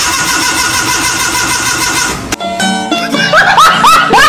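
A car engine, apparently a car being driven by a learner, starts and then revs lightly, its steady rumble giving way to uneven surges near the close, with a voice briefly audible.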